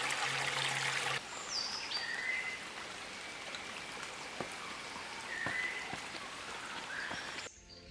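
A creek runs steadily after rain on a misty morning, a soft continuous rushing with drips, while birds chirp now and then in the background.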